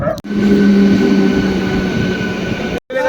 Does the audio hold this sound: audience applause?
no